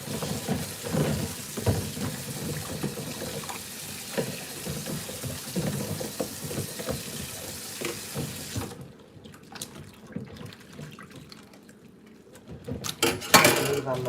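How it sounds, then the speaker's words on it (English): Dishes are washed by hand in a sink of bleach-treated water: close clinking plates, rattling cutlery and running tap water, briefly quieter before a louder clatter near the end. "When I wash dishes, I always add a little bit of bleach in my water."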